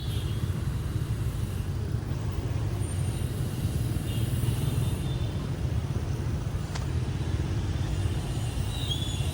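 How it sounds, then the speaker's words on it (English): Dense, continuous traffic roar from a scooter ride through chaotic Hanoi streets, with engines and road noise blending into a steady wash and a brief sharp sound midway. "Riding on the back of one of the scooters, just showing you the chaos of the traffic"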